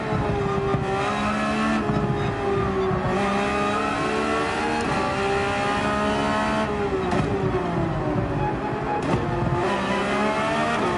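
Race car engine in Gran Turismo 7 at Monza revving loudly and steadily through gear changes, pitch rising and dropping across shifts, with brief tire squeals, close and continuous without talk.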